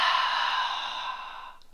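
One long, breathy exhale pushed through the back of the throat during a hamstring workout, hissing steadily close to the mic and fading out over nearly two seconds.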